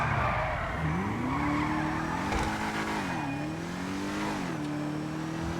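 Albany V-STR, a Cadillac V-Series styled custom-built sedan in GTA 5 Online, revving hard with its engine pitch climbing and dipping through gear changes while tires skid and squeal, loud and up close.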